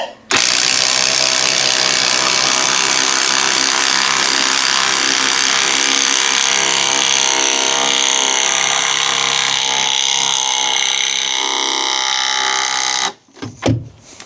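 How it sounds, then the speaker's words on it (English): A Bosch 18V impact driver drives a 75mm concrete screw, a loud continuous rapid hammering whir lasting about thirteen seconds before stopping abruptly, with a few brief clunks after. "it can drive the 75mm concrete screw in"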